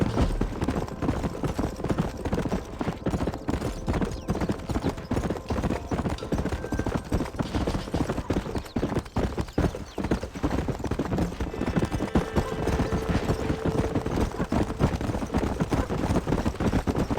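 Horse hooves clip-clop in a steady, driving rhythm during riding in the Red Dead Redemption video game, loud and continuous throughout, with a brief neigh and no talk.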